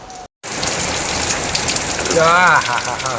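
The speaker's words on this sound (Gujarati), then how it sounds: "બહાર વરસાદની રમસટી છે" Heavy rain pounds down in Surat, India, in a loud, dense roar after a brief cutout, with a faint warbling tone rising near the end.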